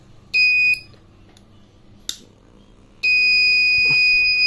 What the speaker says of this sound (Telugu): అదే టైంలో మనకి బజర్ మోగడం కూడా చూసాం మనం.